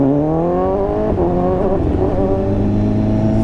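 A 2015 BMW S1000RR motorcycle fitted with an SC-Project exhaust accelerates slowly, its loud, close engine note climbing steadily in pitch with a smooth, continuous exhaust drone and no talking.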